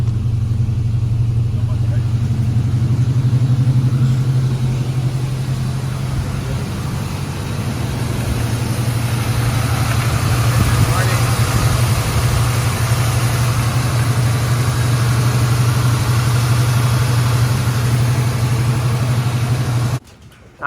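A 1987 Chevy R10 pickup with dual exhaust idles close by, a loud, steady low rumble that holds for about twenty seconds before cutting off abruptly, with no talk over it.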